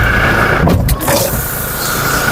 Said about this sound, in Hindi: अरे भाई अंदर से गाड़ी स्टार्ट रही है यार